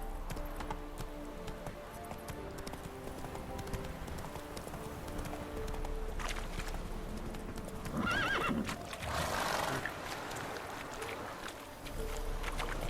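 A horse in The Witcher 3: Wild Hunt gallops in steady clip-clopping hoofbeats and whinnies partway through, over a bed of game ambience and music.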